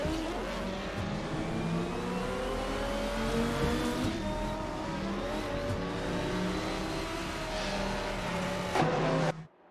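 AI-driven GTR race cars scream around Road Atlanta, their engines rising and falling in layered revving tones as they race, loud and continuous until an abrupt stop.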